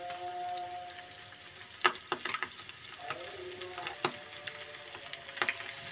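Chicken drumsticks frying in oil: a soft, fairly quiet bubbling sizzle with scattered sharp clicks and knocks, like utensils touching the pan, over a faint steady hum.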